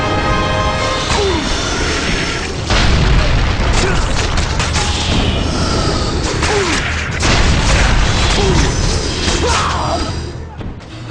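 In the God of War: Chains of Olympus video game, ships fire and ballista shots land during the Battle of Attica, loud repeated booms and crashing impacts over a constant roaring battle din, with talking running underneath.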